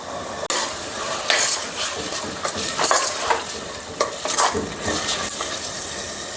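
Tomatoes, capsicum and onion are stirred in a frying pan, with spatula scrapes and stirring rustles over a steady close sizzle and a few sharper clinks.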